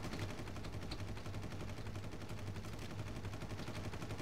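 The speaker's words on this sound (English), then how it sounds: "Who's shooting?" Constant rapid gunfire from the video game Far Cry, a dense, steady rattle of shots running without a break throughout, moderately loud and unbroken by any talk.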